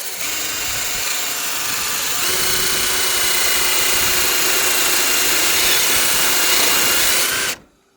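A cordless drill grinds down a meteorite, its steady high whirring buzz with a gritty abrasive hiss holding nearly unbroken for about seven seconds before cutting off sharply.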